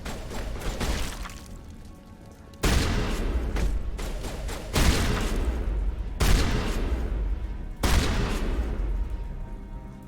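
Shotgun fire in Mass Effect Legendary Edition: four heavy, booming blasts land at irregular intervals, each with a sharp onset and a rumbling tail over a continuous din of combat noise.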